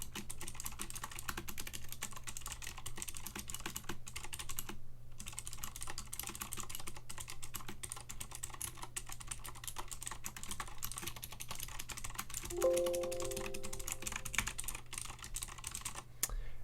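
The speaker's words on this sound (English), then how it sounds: "So I'm just switching over to the notepad there. So standard typing." Steady, continuous typing on a mechanical keyboard fitted with PBT keycaps, a fast stream of light clicks and clacks heard close up with no talking.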